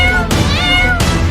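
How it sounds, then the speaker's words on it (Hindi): A cat meows loudly and close up in two drawn-out, wavering cries over a steady low background rumble. "मैंने बिल्ली को पकड़ लिया टॉनी"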